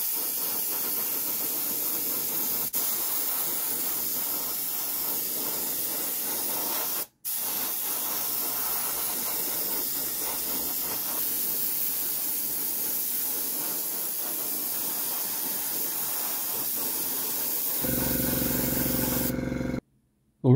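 A Vallejo Model Air French Blue acrylic is sprayed through an airbrush onto a Bandai Space Battleship Yamato Andromeda model kit, giving a steady close airy hiss that runs almost unbroken, with a brief cut and a louder spurt near the end.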